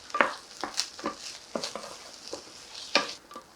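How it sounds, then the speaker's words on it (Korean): Rice stir-fried with seaweed in grapeseed oil and sesame oil, heard as scattered scraping strokes of a spatula against the pan with faint sizzle between them, close and alone. "쌀을 볶아줄 거예요"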